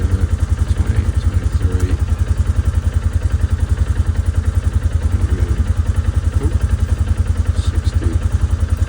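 A Polaris Ranger 570 utility vehicle engine runs steadily at idle during a service check, a loud even pulsing chug throughout, with someone speaking briefly over it.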